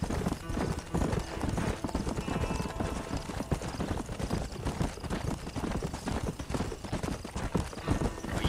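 Horse hooves clip-clop at a steady trot through Red Dead Redemption on PS3, loud and continuous with a dense, rhythmic patter over a gritty background, and a brief whinny-like tone partway through.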